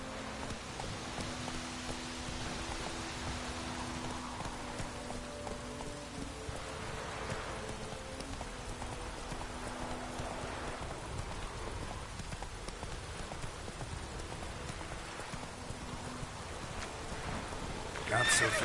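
Steady rain pours throughout a Witcher III game scene with a horse on the move, soft hoof clops and a whinny faintly buried beneath the constant wash, and someone speaks briefly.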